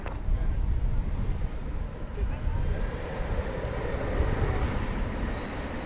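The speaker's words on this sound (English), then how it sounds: "That looks to be an Airbus A321. Runway 18 left" An Airbus A321 airliner on approach to runway 18 left at DFW Airport gives off a continuous broad jet roar that holds steady throughout, loud and fairly close.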